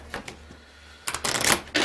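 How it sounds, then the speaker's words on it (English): A deck of Mage Knight tabletop game cards is shuffled by hand nearby, a few soft riffles and then a dense, loud run of flicking cards, with no talking. "So now I forgot to shuffle the dummy player's deck. Let's do that."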